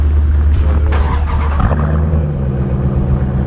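A 2018 Dodge Durango SRT engine runs after a remote start, a loud, steady, deep idle rumble that holds throughout with a brief rise near the middle.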